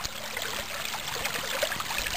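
Creek water flowing steadily beside a hiking trail, a continuous close babbling trickle and splash with no voices.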